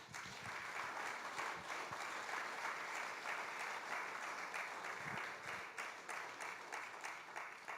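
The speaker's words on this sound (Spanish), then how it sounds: "Y vas a aplaudir al Señor a lo fuerte." A church congregation applauding loudly, a full steady roar of clapping hands with a few sharper claps standing out, heard at a distance and fairly quiet overall.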